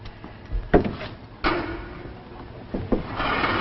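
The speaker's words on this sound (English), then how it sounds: "Open the door, my dear." A wooden door is handled in a series of knocks and thumps, with latch clatter and a scraping slide as it is worked open, all heard close and indoors.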